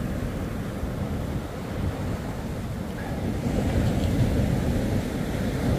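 Shore-break waves pound against a ski boat on its beach tractor, a heavy continuous roar of surf mixed with buffeting wind noise on the microphone, swelling louder toward the end.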